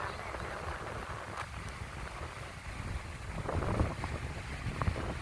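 Wind blows steadily across a beach at Hua Hin in the late afternoon. It makes a broad, constant rushing roar against the microphone that swells a little toward the end, and no voices are heard.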